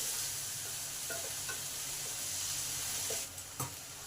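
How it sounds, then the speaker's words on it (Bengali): Ridge gourd frying in a pan with salt and turmeric, a quiet steady sizzle with a few soft scrapes and clinks of a spoon stirring, one sharper knock near the end. "1 মিনিট ভালো করে নেড়ে নিলাম।"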